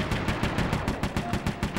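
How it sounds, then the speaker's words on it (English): Rapid, evenly spaced turret fire from the grapple cam in the video game Sly 3, a loud steady stream of close shots in quick rhythmic succession with no talking. "we now have a turret on the grapple cam"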